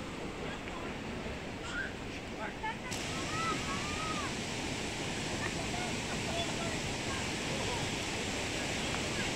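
A river flows steadily nearby outdoors, a broad continuous rushing wash of water with a few faint bird calls riding over it, no talk.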